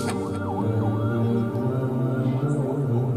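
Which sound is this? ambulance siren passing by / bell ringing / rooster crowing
ambulance siren passing by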